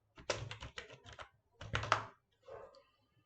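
Computer keyboard typing in two quick bursts of close, clicky keystrokes with a brief pause between, followed by a softer trailing patter of keys, no speech.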